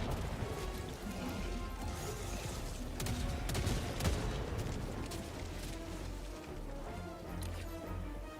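Grenade launcher firing in a video game, with repeated loud crashing booms and impacts in a dense barrage. A heavy thud peaks midway, and the whole stretch stays busy and noisy.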